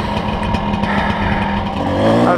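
Kawasaki KDX dirt bike engine running loud and close with a steady buzzing two-stroke drone, rising slightly at the end, on an off-road trip at Ocotillo Wells.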